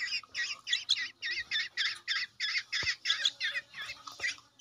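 A pair of young Martinez birds (mynas) squawk in a steady run of rapid harsh calls at close range, loud and continuous with no talking.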